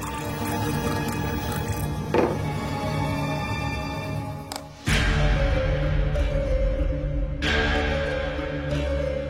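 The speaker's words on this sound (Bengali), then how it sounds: "জল ঢেলে দিই" Water poured into a pan of homemade pasta gives a loud liquid gush up close, with drips and splashing. A sharp surge of pouring comes midway and then settles into a steady rush.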